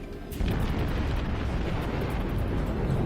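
Heavy naval gun shells booming in World of Warships, a dense sustained roar of firing and impacts that swells loudly after a brief quieter start and stays thick and rumbling throughout.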